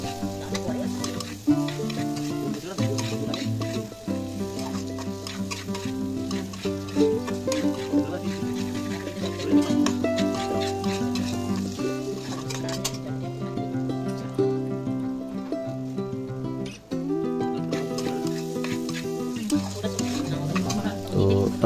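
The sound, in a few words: chicken being stir-fried in a pan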